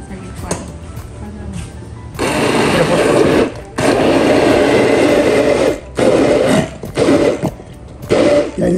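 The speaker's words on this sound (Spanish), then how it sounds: "Vamos a licuar." A kitchen blender whirs loudly in several long pulses as ingredients are blended for a risotto-style Moro rice dish with pork chop, short breaks separating the runs, with a brief voice before the motor starts.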